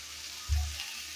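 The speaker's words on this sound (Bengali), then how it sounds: "দেখে থাকবেন কীভাবে ভাজতেছি।" Okra bhaji hitting a hot pan, a short loud burst of frying sizzle that fades over about a second, with no voices.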